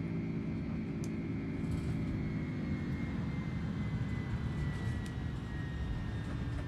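Single-engine Cessna 172 propeller aircraft engine in Microsoft Flight Simulator, a steady, loud, continuous droning hum with a constant low rumble and faint higher whine throughout, no voices.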